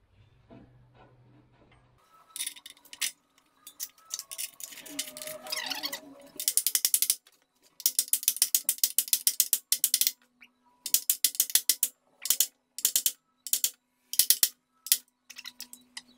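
Ratchet tightening bolts on a Hinowa minidumper, close and crisp, with repeated bursts of rapid clicking separated by short pauses.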